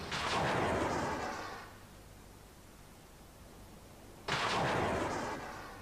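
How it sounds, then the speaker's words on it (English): A ship's chaff launcher fires chaff rockets in two loud whooshing bursts of rushing noise, each fading into a low hiss, separated by a quieter stretch of rumble. "Chaff rockets burst near the ship, producing a cloud of fine aluminium needles."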